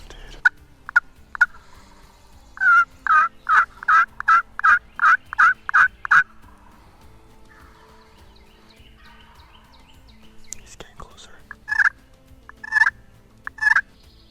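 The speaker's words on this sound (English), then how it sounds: "I think this is gobbling his head off" A wild turkey gobbles repeatedly in the woods, a run of loud rhythmic gobbles followed by a pause and then a few more calls, heard fairly near against quiet morning surroundings.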